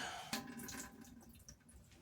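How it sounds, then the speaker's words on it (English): Bud worms dropped into a bucket of water, heard as a quick splash followed by light sloshing and dripping, close up with faint background noise. "I chuck them in a bucket of water"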